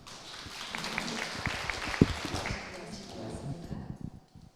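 Applause for a former minister invited to give congratulatory remarks at a Korean international forum, a soft scattered patter of clapping from the hall, fairly faint and distant, fading out toward the end.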